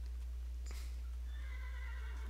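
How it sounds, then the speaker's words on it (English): A horse neighs in the Minecraft Tekkit video game, a brief whinny that rises and then trails off in a wavering tone over a steady low electrical hum. "And that's a horse."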